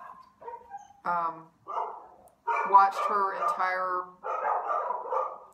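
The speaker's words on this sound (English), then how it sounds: "Sorry for the dogs." Dogs bark and yip in the background in short bursts, several sharp barks followed by a longer run of barking, with someone talking over and between them.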